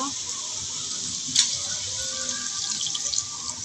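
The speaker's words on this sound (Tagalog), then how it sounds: "Lagyan din natin siya ng tubig." Water pours into a pan of chicken adobo, a steady hissing, splashing stream heard close, with a brief louder splash early on and a voice speaking lightly underneath.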